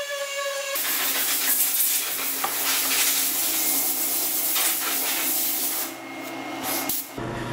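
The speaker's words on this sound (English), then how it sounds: "I sanded with 400 and then worked on leveling." A wooden bench is hand sanded with 400 grit sandpaper in a continuous rough, hissing rub of paper over wood that stays loud and close and runs without break.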